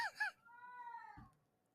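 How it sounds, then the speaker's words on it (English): A pet cat makes a brief, thin, whining cry that sounds like a short wail, followed by a soft thump, with a brief voice heard just before. "That's what my cat sounds like."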